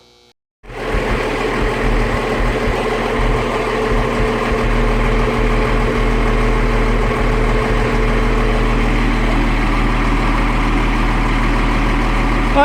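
A White tractor engine starts up and settles into a loud, steady low idle after an alternator repair, with a deep rumbling throb holding continuously and no talk over it.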